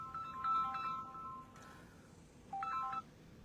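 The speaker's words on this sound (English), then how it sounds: "Got a phone call, but I hung up on that." A mobile phone's ringtone for an incoming call plays in two short bursts of bright electronic melody separated by a pause, fairly faint over low background noise.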